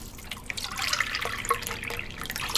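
Water poured from cups into a cooking pot for chicken tinola, a close, steady splashing and trickling run with small drips, heard alone.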